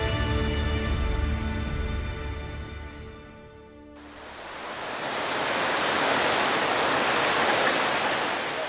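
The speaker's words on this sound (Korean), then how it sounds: "나이아가라 강의 위용을 만천하에 드러내는 나이아가라 폭포" Niagara Falls roars as a broad, dense wash of falling water. It swells in after a sustained tonal passage fades out, then holds steady and powerful to the end.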